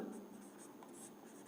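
A pen scratching across paper in short strokes while writing out a maths answer, quiet and close, with someone speaking over it.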